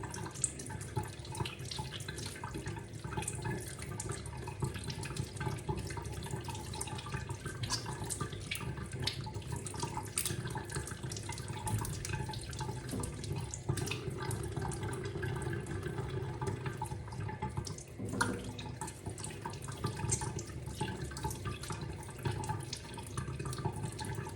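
Dough being washed under a running tap to make gluten fishing bait, a steady close rush of faucet water with splashing and squelching as the dough is kneaded, continuous throughout with no talk.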